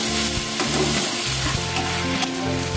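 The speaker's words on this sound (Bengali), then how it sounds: "আদা রসুন পেস্টটা দিয়ে আরেকটু রান্না করতে হবে।" Chicken pieces frying with ginger garlic paste in a pan, a loud steady sizzle with periodic stirring scrapes throughout, no voices.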